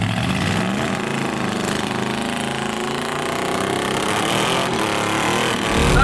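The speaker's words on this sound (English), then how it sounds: "So what's he going to do? Do a burnout?" Car with a welded differential doing a burnout on a track, a loud, steady, rough engine roar and tyre noise sustained throughout, rising slightly at the end.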